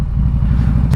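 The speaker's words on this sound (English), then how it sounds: "The D&D 2-in-2 XCAT exhaust. I think they sound great. See, listen to it." A Harley-Davidson Street Glide performance bagger fitted with a D&D 2-in-2 XCAT exhaust idles nearby, giving a loud, deep, throbbing V-twin rumble with a steady pulsing beat.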